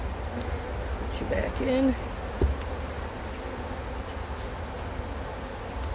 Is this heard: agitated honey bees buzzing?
yes